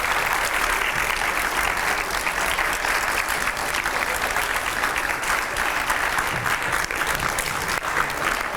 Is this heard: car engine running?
no